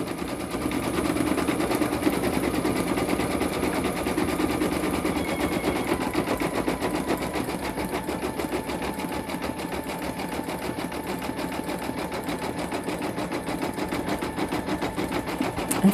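An embroidery machine stitches out a design on a hooded towel, a steady fast rapid-fire needle chatter running continuously at close range with no talk.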